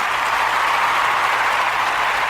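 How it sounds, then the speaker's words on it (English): An audience at a late-night talk show claps in applause, a dense, steady wash of many hands that stays even and loud for the whole short stretch with no voices over it. "Y'all give Richard a round of applause for what he just said, man."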